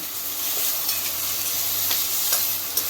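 A ground onion and coconut paste fries in a pan for a Maharashtrian drumstick dish, giving a steady close hiss with small popping ticks and occasional faint stirring scrapes.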